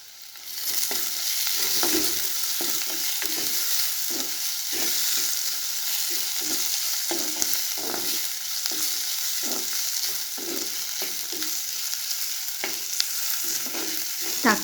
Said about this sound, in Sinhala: දැන් මම මේකට එනසාල්, කරාවු නැටි, කුරුඳු පොතු ටික, තක්කාලි ටික, අවු මිරිස් ටික එකතු කරගන්නවා.